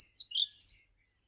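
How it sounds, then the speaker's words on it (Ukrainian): Birds chirp and tweet in a quick, bright burst of high notes lasting under a second, then fall silent. "пташки мої золоті співають"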